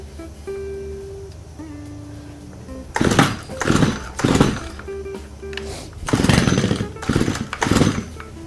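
A STIHL string trimmer's small engine fires after a hum and a few beeps, sputtering in uneven loud bursts that rise and fall as it catches and runs roughly.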